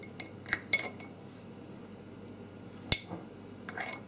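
Spoon clinks against pastry tins and dishes while raspberry jam is spooned into pastry tartlets, a few sharp metallic taps spaced apart in a quiet kitchen.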